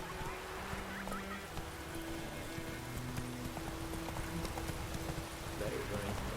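Roach, Geralt's horse in The Witcher 3: Wild Hunt, gallops with a steady, close clip-clop of hooves over a dense bed of game ambience, with faint voice-like sounds in the mix.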